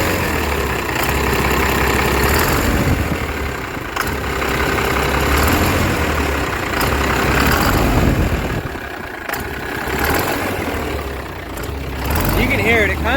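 A dually truck engine idles with a tinny sound after a valve adjustment, a steady loud mechanical drone that runs continuously with slight fluctuations and a brief dip near the middle.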